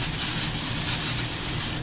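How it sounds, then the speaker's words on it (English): Cooking spray hissing steadily onto a small foil condiment pan, one continuous close, loud spray lasting under two seconds. "grease up our little pan that we're using a foil condiment"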